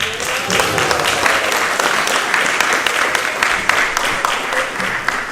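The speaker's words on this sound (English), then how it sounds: "I thought we'll make the applause a little bit louder for His Royal Highness and the royal family" Loud, dense audience applause for a royal family at an awards ceremony, sustained and even from start to finish.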